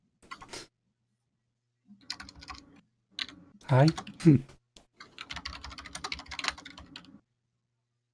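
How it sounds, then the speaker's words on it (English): Typing on a computer keyboard comes in irregular bursts of quick clicking keystrokes, fairly close and soft, with a brief spoken greeting at the start and a couple of louder thumps midway. "I have a feeling someone's typing something"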